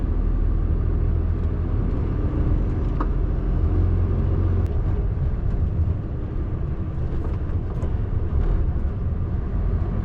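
A Class One truck driving through London streets at night, a steady close engine rumble and road noise with no break, the cab drone dominating throughout.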